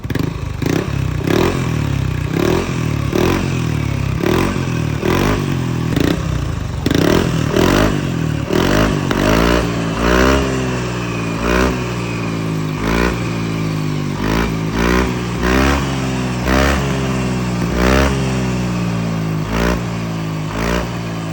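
A Yamaha Aerox V2 scooter fitted with a TSMP stage 2 exhaust revs repeatedly at low RPM, giving a loud, close, steady burbling engine drone with rhythmic pulses and throttle blips throughout.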